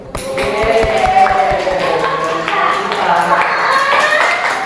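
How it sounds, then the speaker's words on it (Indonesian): A classroom of students gives a group a round of lively applause, a dense wash of clapping from many hands that lasts the whole stretch, with voices mixed in. "Beri tepuk tangan yang meriah untuk kelompok 3."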